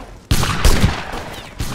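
Musket fire in a Napoleonic-era video game battle, a sudden loud volley followed by a second burst of shots and a rolling crackle of more distant gunfire, with no voices.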